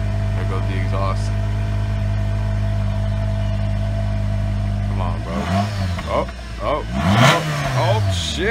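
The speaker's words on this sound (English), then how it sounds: "There goes the exhaust." A Honda inline four-cylinder car engine revs hard through its exhaust in several rising and falling bursts after a steady idle, loud and close, with a voice exclaiming over it.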